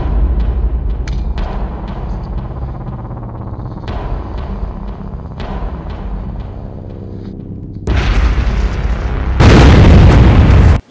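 Explosives detonate in a short film, with a few sharp impacts and rumbling tails, then a heavy blast and a louder, harsher roaring burst at the end, close and loud.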